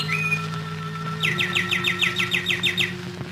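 A bird sings a quick series of repeated chirping notes, clear and fairly close, over a low steady hum.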